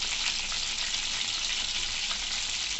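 Chicken pakoda pieces frying in hot oil, a steady dense bubbling sizzle throughout, close and even with no pauses or voices.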